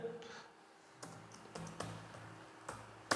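Enter key pressed on a computer keyboard during Photoshop work: a few sharp, close plastic clicks spaced unevenly over a quiet background, with no talking.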